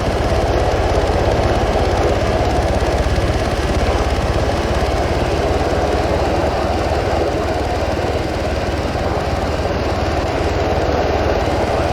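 A helicopter engine in Arma 3, heard as a loud, steady, unbroken engine and rotor drone that holds at a constant level throughout without pauses.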